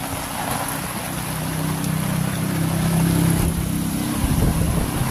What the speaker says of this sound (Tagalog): Yung motor dito